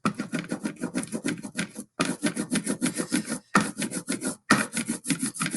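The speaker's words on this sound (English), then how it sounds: "so I'm going to roll out my ink." A roller spreads printing ink across a flat surface for styrofoam printmaking, giving a steady sticky, crackling rasp in rhythmic back-and-forth strokes with brief pauses, close and alone.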